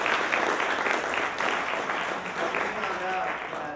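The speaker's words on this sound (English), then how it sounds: "Let's give a round of applause for Rachel." Audience applause at a stand-up comedy show, a steady wash of clapping lasting several seconds with some voices mixed in.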